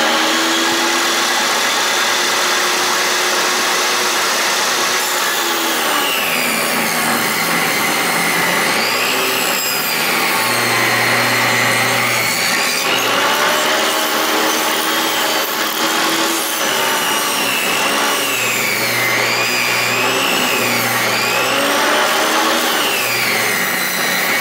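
A table saw cuts leftover scrap lumber on a homestead building site with a loud, continuous whine. The pitch dips and rises as the blade bites into the wood, close by, with no voices.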